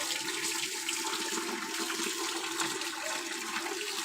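Water gushes steadily and loudly from a tap or pipe during a bath at home, a continuous close splashing rush with no pauses or voices.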